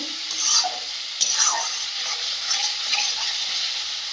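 Spices sauté in onion water in a pan, a continuous moderate sizzle with intermittent stirring scrapes and small clinks at a close distance.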